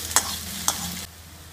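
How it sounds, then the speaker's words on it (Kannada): Spoon stirring okra as it fries in a pan, with two scraping strokes over a steady sizzle that stops abruptly. "ಚೆನ್ನಾಗಿ ಹೀಗೆ ಮಿಕ್ಸ್ ಮಾಡಿ"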